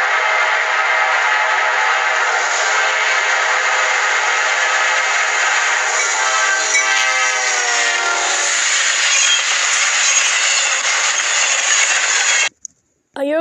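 A Norfolk Southern train sounds its horn in one long, loud, sustained blast that wavers near the end, with rail noise underneath before a sudden cutoff.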